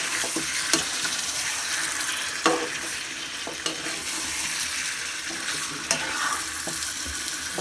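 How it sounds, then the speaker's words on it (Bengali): Chicken pieces stirred and fried with potatoes in a pan for a bhuna curry, a steady close sizzle broken by sharp scraping clicks of the spatula every second or so. "মাংসটা দিয়ে ভালো করে নেড়ে কষাবো।"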